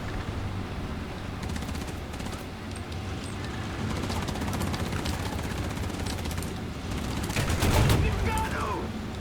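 Rapid machine gun fire rattles in War Thunder tank combat, dense bursts of shots continuing across the scene over a rumbling battlefield, with a heavier blast near the end.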